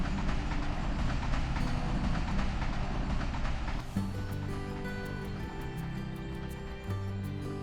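A train on Austria's Semmering mountain railway rumbles steadily along the rails, with a continuous rolling roar that shifts partway through to a smoother, tonal hum with faint rhythmic clicks.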